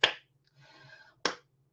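Two sharp, close hand claps about a second apart during a preschool children's coordination exercise, with a faint soft rustle in the quiet gap between them.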